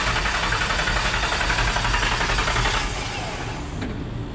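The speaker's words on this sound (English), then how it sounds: "It's been kind of extended cranking anyhow." A Coyote-swapped 1985 Mustang GT engine cranking on the starter, a steady rhythmic churning drone held for several seconds before tapering off without firing.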